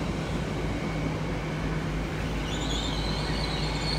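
An IET class 802 train at Exeter St Davids station in the evening makes a steady, moderately loud rumble with a faint whine, and a high squeal rises toward the end. No one speaks.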